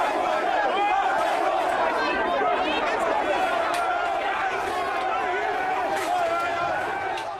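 A hostile crowd outside Leeds Crown Court gives a loud, continuous roar of shouting voices and chatter, close and overlapping, with sharp calls rising above the din.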